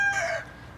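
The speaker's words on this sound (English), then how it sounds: "When you wake up in the morning on a farm, you may hear a rooster crow." A rooster crowing on a farm: one short, loud, close call that fades quickly into quiet, heard on its own with no voices.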